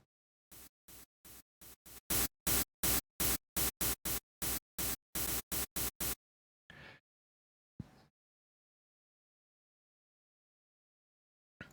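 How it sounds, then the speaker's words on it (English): Harsh high-pitched noise from detuned saw-wave synths in FL Studio, played as a fast run of short, loud, evenly chopped bursts, then two fainter isolated hits before silence. "noise is what I mean is like very high frequency"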